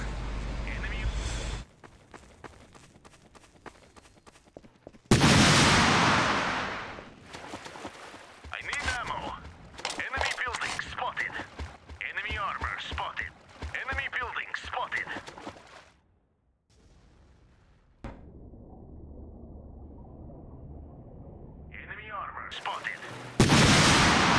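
Two APCs hit a barracks in the Empires Source mod of Half-Life 2, map emp_raiders, with repeated heavy booming shots and bursts of gunfire in a loud, dense barrage that fades into a quieter stretch, with players talking over it.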